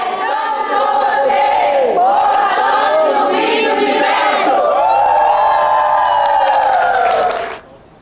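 Crowd of Amazonas supporters cheering and chanting the name of Miss Universe contestant Mayra Dias, a loud, continuous roar of massed voices with rising shouts that cuts off abruptly near the end.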